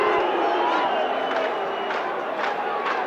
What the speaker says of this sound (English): I think the crowd are roaring